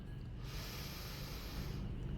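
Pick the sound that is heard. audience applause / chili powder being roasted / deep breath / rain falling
deep breath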